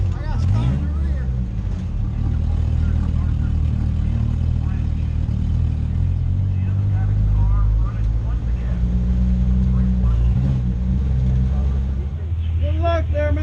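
A race car rolls onto the Hattiesburg Speedway for a heat race, its engine giving a loud, steady low rumble with slight revving throughout, and voices may be faintly mixed in.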